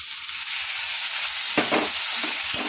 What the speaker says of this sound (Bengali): তেলে জিরে ফোড়ন দিয়েছি